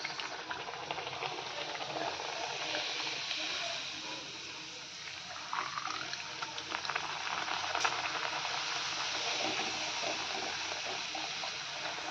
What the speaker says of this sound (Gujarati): મસ્ત મસ્ત આપણે હવે પૂરી તળવા મળી.